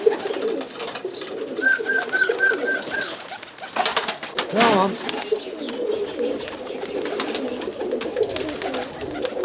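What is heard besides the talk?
roller pigeons cooing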